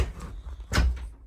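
A wooden cabin door swings shut with a soft scrape followed by a single dull thud, close and moderately loud, then quiet.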